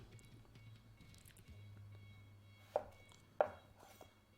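A knife slices down through a soft cucumber, giving two sharp, close cutting knocks a moment apart over a faint low hum.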